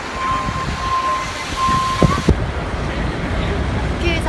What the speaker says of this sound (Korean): 여기는 지하철역이에요.